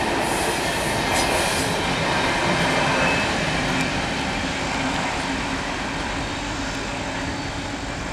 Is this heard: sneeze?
no